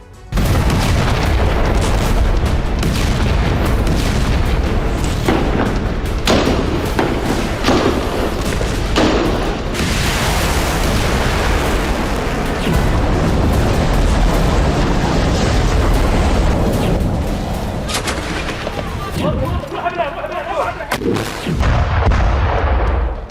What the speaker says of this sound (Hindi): पहले आसमान से गाजा की सरजमी का भीषण बारूदी अटैक से संघार